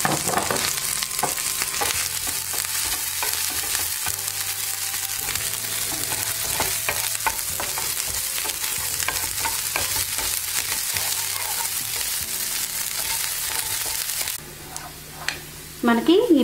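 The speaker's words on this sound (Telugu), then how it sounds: "దానిలో 1 టేబుల్ స్పూన్ ఆయిల్ వేసుకుని దానిలో ఈ సన్నగా కట్ చేసి పెట్టుకున్న అల్లం ముక్కలు, పచ్చిమిరపకాయలు, చిన్నులపాయలు వేసేసి హై ఫ్లేమ్ మీద టాస్ట్ చేసుకోవాలి" Finely chopped ginger, green chillies and onions sizzle loudly and steadily in a tablespoon of oil over a high flame, with stirring, for chicken Manchurian.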